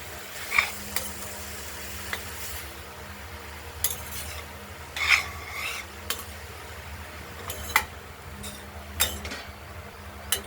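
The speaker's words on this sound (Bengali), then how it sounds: "হলুদও পরিমাণ মতো দিয়ে দিলাম, দিয়ে আবার নাড়াচাড়া করব।" Chopped pointed gourd with turmeric frying in a pan, a soft steady sizzle broken by intermittent scraping and clinking stirs from a utensil against the metal, close and unaccompanied by talk.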